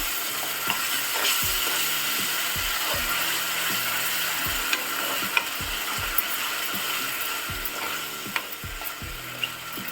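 Ground tomato paste frying in a pan for a dhaba-style palak paneer: a loud, constant sizzle with regular clicking scrapes of stirring throughout, close up and without voices.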